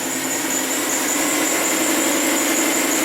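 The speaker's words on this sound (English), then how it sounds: "I'm going to see if I can give it some throttle snaps here, or at least raise the RPM" A misfiring Hyundai Sonata engine runs at a steady raised RPM, a constant loud, dense hum with a faint high whine above it and no distinct revving peaks.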